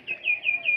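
Pigeons on a rooftop at a home pigeon farm give a few short, fairly loud chirping calls in quick succession, nearby and without talk, on an overcast, darkening evening.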